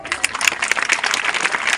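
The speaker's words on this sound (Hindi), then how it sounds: "तालियां।" Children and teachers clap together at a Children's Day celebration at S.S. Children Academy in Haseran, Kannauj, a dense, loud burst of applause lasting under two seconds.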